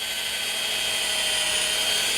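A hand drill bores a hole through a potato in a kitchen, a steady whining hum that holds constant throughout without any voices.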